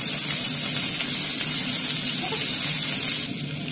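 Onions frying in a little oil in a sufuria give a steady, broad hiss and sizzle that runs close and continuous, easing off slightly near the end.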